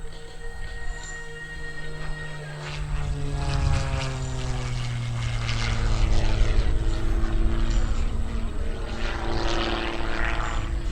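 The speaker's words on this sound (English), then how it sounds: "And there they go in the knife edge flight, near feet apart, right smack at show center." Propeller aerobatic airplanes from an aerobatic team fly knife edge close together at show center during the 2013 Lehigh Valley Airshow, their engines droning loudly and steadily with shifting pitch as they pass.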